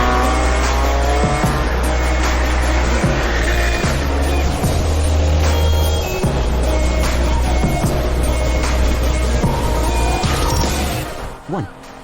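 A 620 hp Stage 3 BMW M240i running on alcohol fuel races a BMW M3, with a loud continuous engine roar lasting throughout, repeated sharp revs and gear shifts, and tire noise near the end; faint voices sit under the engines.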